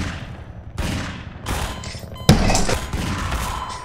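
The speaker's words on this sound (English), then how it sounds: "He shot me through the fucking floor." Video game gunfire in Half-Life 2, shot up through a floor: a run of heavy, booming shots, four or five bursts about half a second to a second apart, the loudest near the end, with no talking.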